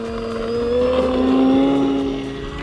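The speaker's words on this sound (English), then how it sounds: "I'm guessing this plane won't need much runway to take off" An E-Flite Carbon-Z Cub SS, a large 2.1 m electric RC airplane, takes off with a steady high motor whine that rises slightly in pitch and swells near the middle before easing, loud and close with no talking.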